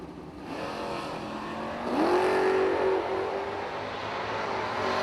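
A wheelstanding Mustang drag car idles, then launches with a loud, rising engine roar that holds steady at high revs, all against the open noise of a drag strip and with no talk.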